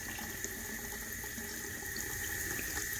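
Water wrung out of an iRock Super Swamper tire from an RC truck, a continuous trickling, splashing flow held steady for a few seconds, close and moderately loud with no voices.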